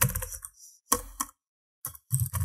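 Bursts of computer keyboard typing come in short clusters separated by silent pauses, close and fairly clear, as a name is entered into a web form.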